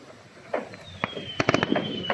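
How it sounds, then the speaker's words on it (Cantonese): Fireworks set off across the water on a beach, a distant crackle of pops with a rising whistle and a quick burst cluster, while a voice talks nearby. "喺對面喺沙灘度放，沙灘度放煙花"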